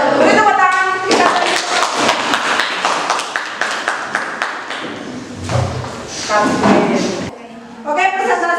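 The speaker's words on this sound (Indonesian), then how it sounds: "Beri tepuk tangan kita." Applause from a classroom audience after a group presentation in a teacher-training session, with scattered claps and thumps mixed with overlapping chatter and voices throughout, fading briefly before a speaker resumes.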